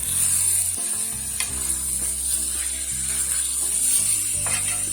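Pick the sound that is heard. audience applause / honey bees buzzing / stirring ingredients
stirring ingredients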